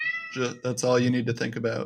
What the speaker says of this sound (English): I'm sorry for my cat meowing in the background.